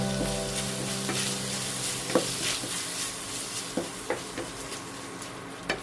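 Green chillies and peas frying in a pan over medium heat for a Chinese-style oyster mushroom dish, with a steady close sizzle and periodic spatula scrapes and taps against the pan.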